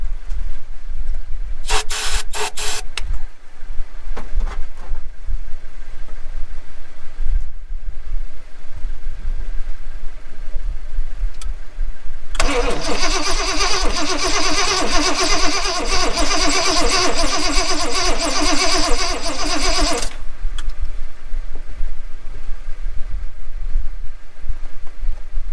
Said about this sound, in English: we have power at the coil, so let's crank her over,